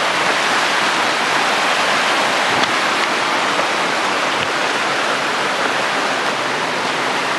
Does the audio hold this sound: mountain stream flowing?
yes